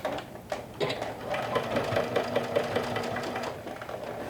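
A sewing machine stitches piping onto a bucket hat, its steady rapid mechanical whirr running throughout at close range with a soft regular needle beat.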